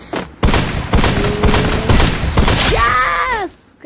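Free Fire video game gunfire: several loud bursts of rapid shots, then a rising and falling tonal effect, with brief quiet before and after.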